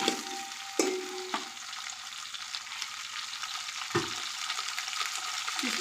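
Potato, tomato and cucumber pieces fry in a pan for drumstick sambar, a steady sizzle with a few louder stirring scrapes and clinks, close and continuous without talking.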